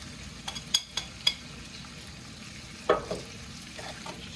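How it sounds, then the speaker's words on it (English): Spices stirred into a frying pan for butter chicken give a steady sizzle, with a few sharp utensil scrapes against the pan near the start and again around the middle. "Just give that a quick little stir."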